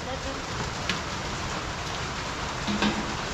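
Steady rain falls during a red-level typhoon over a farm, a dense, even hiss that holds for the whole stretch, with a few faint knocks and bumps near its end.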